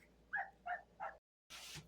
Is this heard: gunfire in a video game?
no